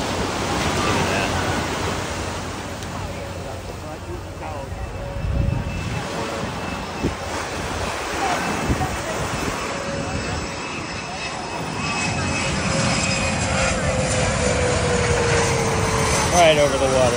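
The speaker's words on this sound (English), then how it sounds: "Here comes an airplane. Coming in." An airplane flies in low over the water on the island of St. Martin: a jet engine roar that swells and lingers over lapping waves, with people talking throughout.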